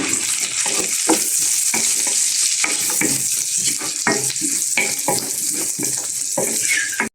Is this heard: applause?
no